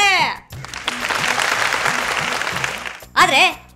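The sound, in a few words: audience applause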